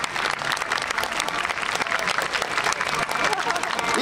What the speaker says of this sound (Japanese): 最後大きな拍手をよろしくお願いします。